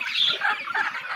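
Sonali hybrid chickens, 39 days old, cluck and chatter in quick repeated bursts on a hot day at a poultry farm, near and fairly loud with no talk.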